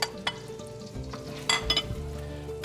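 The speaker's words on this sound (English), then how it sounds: "we've got some butter warming up here in the pan, nice and bubbly, not too hot" Chopped yellow onion frying in bubbling butter in a pan gives a steady close sizzle, with a few stirring scrapes and utensil clinks against the pan.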